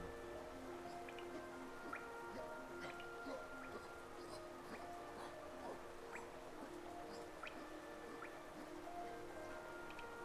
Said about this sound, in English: I so love the sound of the rain upon glass.